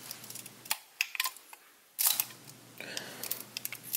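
A Minolta SRT 201 35mm film camera being handled while loading film, with a few close mechanical clicks and a sharp, louder shutter release about midway, followed by quieter winding and handling sounds.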